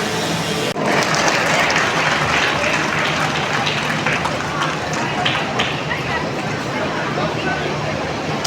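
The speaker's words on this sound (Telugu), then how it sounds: "ఒకసారి గట్టిగా చప్పట్లతోటి మీరు ఈ పుస్తక ఆవిష్కరణలో పాల్గొనడం కోరుతూ" An audience at a book launch held by the police claps loudly and continuously, a dense roar of applause with crowd murmur underneath and no pause.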